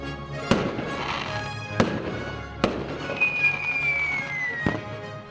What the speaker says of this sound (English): And so it is, fireworks and the 4th of July.